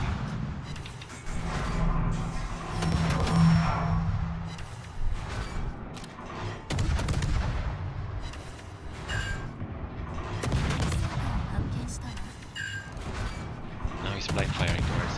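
Warship guns fire in World of Warships: repeated heavy booming salvos and rumbling impacts over a dense battle din, with a voice speaking at times.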